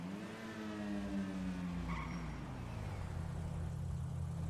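A fast car in GTA 5 revs with a falling engine tone and a brief tire skid, moderately loud and without talk.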